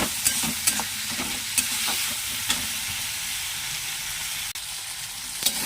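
Chopped onion and garlic frying in oil for a banana-flower curry, a steady close sizzle with several sharp clicks of a spoon stirring against the pan.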